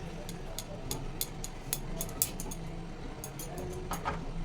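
A metal spatula keeps working powdered milk into hot water in a pan over a low flame, giving quiet, regular scraping taps at a soft level.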